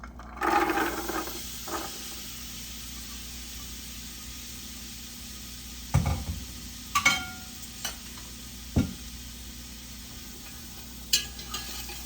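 Vegetables drop into melted butter in a soup pot for chicken noodle soup, giving a soft sizzle with a few scattered stirring clatters and knocks, fairly quiet with no talk.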